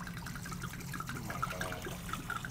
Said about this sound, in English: the fun part is you pour the whole thing in